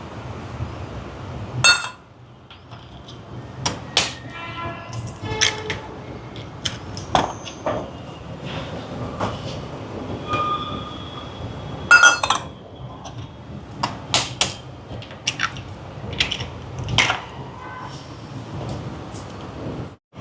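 Eggs are cracked against and emptied into a glass bowl, giving sharp, close clinks and taps scattered among quieter rustling, with one bright ringing knock near the middle and a few clustered clicks toward the end.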